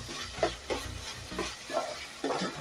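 Onion, garlic and ginger paste sizzles and fries in a pan while being stirred, with soft scraping strokes recurring every half second or so over a low, steady crackle.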